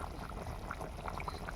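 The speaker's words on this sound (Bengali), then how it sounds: "সবে ফুটতে শুরু করেছে" Broiler chicken curry bubbling in a pot just coming to the boil, giving a soft, steady simmer with small irregular pops and gurgles, close and fairly quiet, with no talking.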